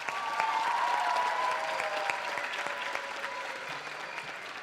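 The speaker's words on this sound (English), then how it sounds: "Let's give her a round of applause." Audience applause at a school musical event, a dense wash of clapping from a large crowd that holds steady and slowly tapers over several seconds.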